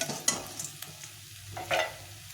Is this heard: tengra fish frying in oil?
yes